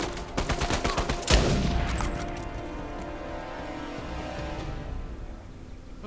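A rapid volley of gunfire from a firefight against an enemy in the video game Uncharted: A Thief's End rattles off in the first second or so, then trails into a lingering rumble and ambient game noise.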